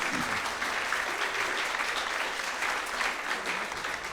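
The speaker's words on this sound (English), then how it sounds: "it's really cool to hear applause and stuff" An audience applauds after a 1930s-style big band set at an outdoor jazz and arts festival in Fort Langley, producing a dense, steady wash of clapping that holds at an even level throughout.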